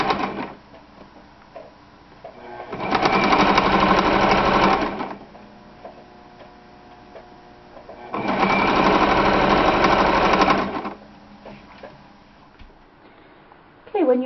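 Sewing machine basting around lace along a seam while upcycling a garment, in two steady buzzing runs of about two and a half seconds each, separated by quiet pauses with small handling noises.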